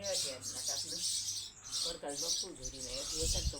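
Sparrows chirp faintly in a rural village yard where rice is scattered for them, with quick thin tweets mixed under nearby voices talking.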